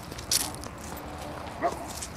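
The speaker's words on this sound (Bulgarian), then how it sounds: "Там има немска овчарка и още едно куче." A dog outdoors lets out two short barks, one early and one later, moderately close over quiet rustling background noise.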